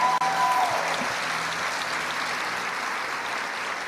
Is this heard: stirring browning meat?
no